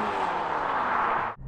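Porsche 718 Cayman GT4 with its naturally aspirated engine and sports exhaust switched on, a loud, steady engine roar held close up for over a second before it cuts off abruptly.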